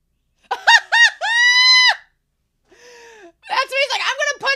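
Birds squawk in an anime episode, loud, close, harmonic cries in quick bursts, a long held screech, then a quieter call and a final flurry of overlapping squawks.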